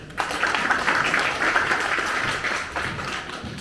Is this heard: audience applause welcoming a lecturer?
yes